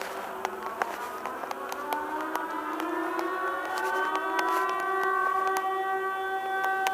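Two warning sirens wail together, their tones rising slowly and overlapping in a steady, droning chord, with sharp clicks scattered throughout.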